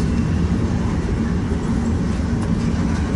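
Conrail freight train rolling past in a rail yard, a steady loud rumble with continuous low wheel and car noise throughout, no voices.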